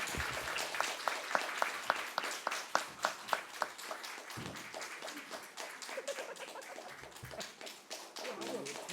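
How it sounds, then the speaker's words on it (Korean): A church congregation claps to welcome a missionary to the stage, beginning with an evenly spaced run of single claps that gives way to looser, mixed clapping with voices calling out across the hall. "이런 마음을 가지고 큰 박수로 맞이해 주셔서 우리 선교사님을 맞이하도록 하십시다."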